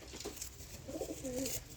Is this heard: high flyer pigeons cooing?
yes